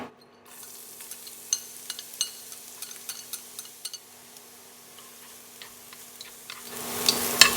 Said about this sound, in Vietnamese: Em cho tỏi băm và gốc hành và em phi thơm.